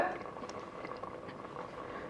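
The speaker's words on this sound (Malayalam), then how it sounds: "നന്നായിട്ട് തിളച്ച് വരുന്നുണ്ട്" Quiet bubbling and gurgling of water boiling in a pressure cooker for coconut rice, a steady low simmer heard close up for a couple of seconds.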